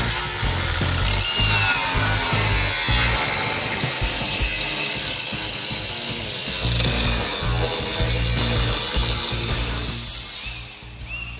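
Parts are cut on a Nissan 350Z with a power tool, making a continuous, loud, harsh grinding and rasping cut with uneven pulsing strokes for over ten seconds, easing slightly at the end.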